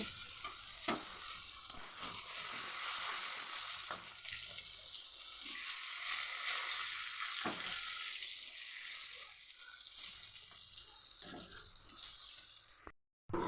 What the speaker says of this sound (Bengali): কড়াইয়ে তেল দিয়ে পটলগুলোকে আবার একটু হলুদ দিয়ে ভেজে নেব।